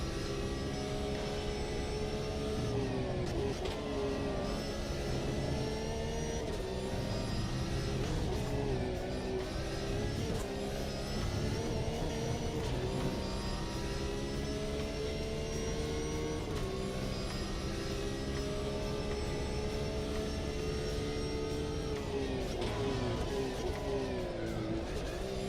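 A Porsche race car in the AMS2 sim racing game drones loudly and steadily throughout, its engine note rising and falling with repeated revving sweeps and gear changes, close and continuous with no talk.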